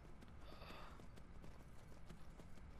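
Horse hooves clip-clopping in a steady galloping rhythm in the video game Skyrim, a continuous close patter of footfalls over a busy game soundscape.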